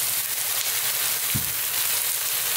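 Fish curry frying steadily in a hot pan with a continuous close sizzle, and one brief louder hiss as freshly blended tomatoes go in.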